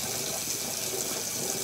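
Soaked sticky rice and its soaking water poured from a bowl into a bamboo steamer, a steady close gushing splash of water running throughout without a break.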